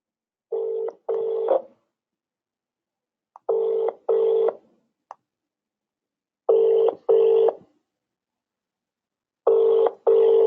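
A telephone rings back on an outgoing cold call, repeating a clean double-ring pattern four times with silent gaps between each pair.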